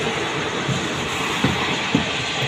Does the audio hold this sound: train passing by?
yes